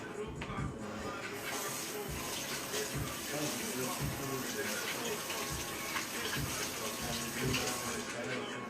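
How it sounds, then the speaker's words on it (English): Kitchen tap water runs steadily into a sink while hands are washed, a close, constant splashing hiss lasting throughout, with faint voices in the background. "let me go and wash my hands real quick."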